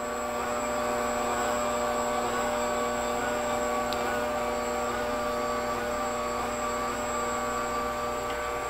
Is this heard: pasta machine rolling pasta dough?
yes